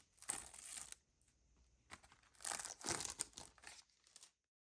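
Plastic wrapping crinkles and tears as a CD single package, type C, is opened, in several bursts of crackling close up, with short pauses between them.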